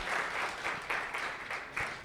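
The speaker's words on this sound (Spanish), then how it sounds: "Dale un aplauso fuerte a Dios por los milagros que hemos recibido" A church congregation claps in praise to God, a dense, steady applause with rhythmic pulses, filling the room without voices for a couple of seconds.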